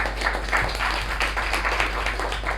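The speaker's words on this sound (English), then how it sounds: "let's give a round of applause to ourselves." Meeting attendees applauding one another, a moderate, continuous patter of clapping from a modest group over a steady low hum in the room.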